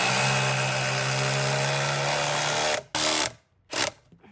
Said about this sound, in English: let's put in all these screws